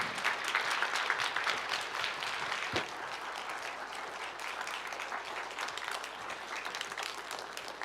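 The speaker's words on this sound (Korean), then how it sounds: "우리 김양섭 박사님 나오셔서 말씀을 특강을 해 주실 때 여러분 오실 때 힘차게 박수로 우리 박사님 환영하도록 하겠습니다." A church congregation claps steadily to welcome a guest lecturer at a Sunday evening service, a sustained and even wash of applause from a large crowd in the sanctuary that lasts several seconds.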